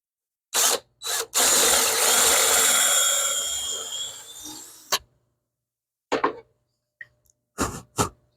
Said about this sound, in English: let's drill our second hole here